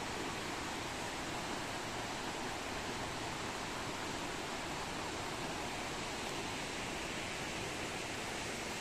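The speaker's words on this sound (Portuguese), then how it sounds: "Tá escutando o barulho da água no meio dessa natureza linda" Steady, even rushing of flowing water, like a stream or small falls, continuous and fairly soft with no voices.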